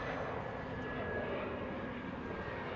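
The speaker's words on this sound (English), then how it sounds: "an EasyJet taking off" An EasyJet airliner takes off in the distance at Lanzarote Airport, giving a steady, broad jet-engine roar that holds at an even level throughout, with no voices.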